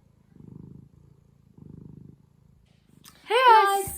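A cat lying on a lap purrs softly and close in slow rhythmic pulses, two longer rumbling stretches with quieter breaths between, before a brief high voice cuts in at the end.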